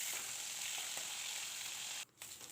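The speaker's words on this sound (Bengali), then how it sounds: "একদম হালকা পাতলা করে ভাজা হবে মাছটা" Vangon fish frying lightly in hot oil in a pan, a steady close hiss and sizzle with faint crackles, briefly dipping near the end, with no talking.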